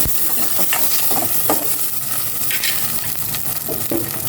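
Garlic and onion hitting a little hot cooking oil for pork sinigang, a loud continuous sizzle with scattered spatula scrapes and clinks, close up and free of talk.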